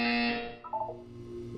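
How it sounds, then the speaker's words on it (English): A buzzer in the video game Portal 2 sounds once, loud and harsh, then trails off into a lower electronic tone that settles into a quieter sustained hum, with no talking. "When you hear the buzzer, look down at the floor."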